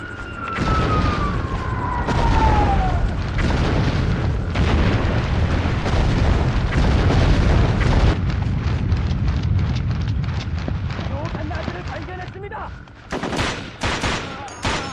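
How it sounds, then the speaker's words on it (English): Airstrike explosions rolling through the video game Ghost Recon 2, dense booms and crackling blasts piling up continuously for many seconds, loud and chaotic, with a falling whistle at the start and scattered final bursts. "gonna call in the airstrike"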